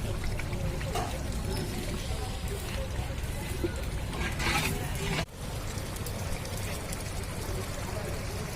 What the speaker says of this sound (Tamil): அதுக்கப்புறம் தயிர் ஊற்ற போகிறோம் நம்ம